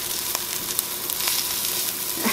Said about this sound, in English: Just letting it brown the onion.